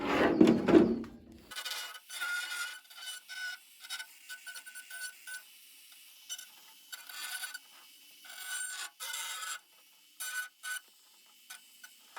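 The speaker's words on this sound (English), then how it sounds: "Just got the Dremel out so I can do some final trimming to the edges that the scissor can't get to so well." A Dremel rotary tool trims the plastic edges of a Proline FJ40 Cruiser scale truck body, producing repeated short, close grinding buzzes with brief silent gaps, after a louder handling rustle at the start.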